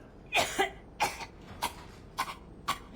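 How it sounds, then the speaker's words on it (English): Game character in Mass Effect 3 coughing several times after waking, a rough burst followed by four or five spaced, fading coughs, fairly close and heard alone. "Why are you coughing?"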